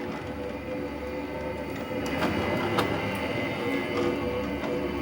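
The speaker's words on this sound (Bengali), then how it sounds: "দেখেন আমাদের কয়েল বাদাইটা পরে শেষের দিকে পড়ছে মেশিনে।" A small coil winding machine winds a coil with a continuous mechanical whirring rumble, steady and close, with a few faint clicks and ticks on top and no speech.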